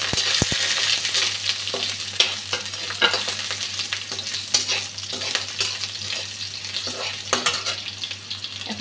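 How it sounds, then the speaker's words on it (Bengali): Dry chilli, bay leaf, green chilli and panch phoron sizzle in hot oil for a Bengali prawn and potato ghonto, a steady crackling fry with a spatula stirring and scraping against the pan, close and alone. "এখন তেজপাতাটা দিয়ে দিচ্ছি, কাঁচা লঙ্কাটা দিয়ে দিলাম, 5 ফোড়নটাও দিয়ে দিলাম।"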